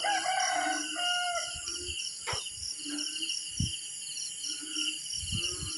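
A rooster crows in the distance on a flooded rice-field farm while insects chirp steadily and chickens cluck softly nearby.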